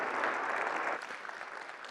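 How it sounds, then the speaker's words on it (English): An audience applauds steadily at an evening talk, a dense wash of clapping that eases slightly partway through. "please give him a round of applause and thank him for coming tonight."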